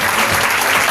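A church congregation applauding together, steady loud clapping filling the room in a short continuous burst.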